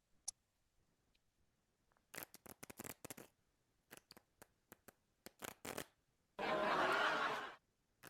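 Quick bursts of riffling card flutters, several short clusters, ending in a longer dense shuffle riffle close to the mic.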